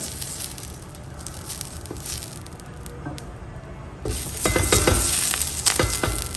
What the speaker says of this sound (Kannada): ಗ್ಯಾಸ್ ಮೇಲೆ ಹೆಂಚು ಕಾಯೋದಕ್ಕೆ ಇಟ್ಟಿದ್ದೀನಿ ಚೆನ್ನಾಗಿ ಕಾದಿದೆ ಇವಾಗ ಎಣ್ಣೆ ಹಚ್ಕೊಳ್ಳೋಣ